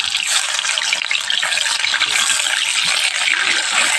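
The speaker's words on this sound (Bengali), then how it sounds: "ভালোভাবে পনিরগুলোকে ভেজে নিতে হবে" Paneer pieces fry in hot oil in a kadai with a bright, crackling sizzle, close and steady, along with light stirring and scraping clinks.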